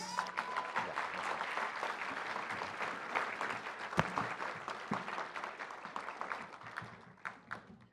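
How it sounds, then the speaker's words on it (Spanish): Sustained applause from an audience at a formal award ceremony for prize recipients, steady dense clapping lasting throughout and tapering slightly at the end. "El aplauso fuerte para ellos"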